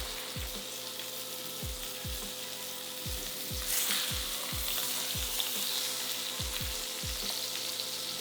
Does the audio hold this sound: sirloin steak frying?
yes